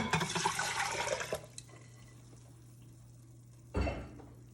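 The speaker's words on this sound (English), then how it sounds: "I'm going to add 3 cups of water" Water pours into an Instant Pot already holding canned green chilies for Spanish rice: a dense splashing rush for over a second, then quiet, then a brief second gush near the end.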